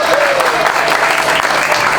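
Applause fills the air at a trophy ceremony for a 38-and-over age group sports competition, a dense steady burst of clapping from a crowd, loud and continuous for the whole stretch.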